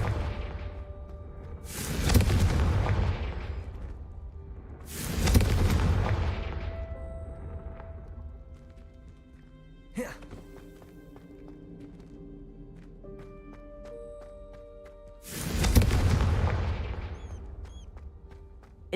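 Confringo spell explosions in the video game Hogwarts Legacy: three loud, close booming blasts a few seconds apart, each with a rumbling decay, plus a sharper crack between them over faint game music and effects.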